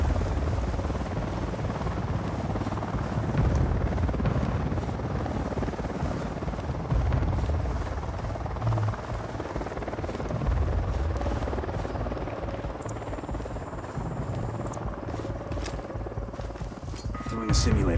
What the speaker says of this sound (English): Unidad chopper, stay low.